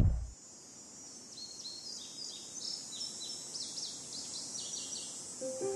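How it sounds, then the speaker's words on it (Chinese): Birds chirp softly in the early morning, with many short high calls repeating irregularly over a quiet, steady background hiss. There is no talking. "清晨鸟叫"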